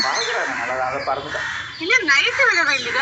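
Crows caw loudly and close by, with harsh repeated calls mixed with people talking in Tamil in a family story setting.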